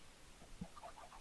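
Faint, soft clucks from chickens in Minecraft, a few short notes scattered over a quiet background.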